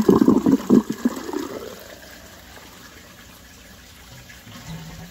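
An aquaponics U-siphon draining water: a loud gurgling gush at the start that tapers into a quiet, steady trickle and then a faint flow.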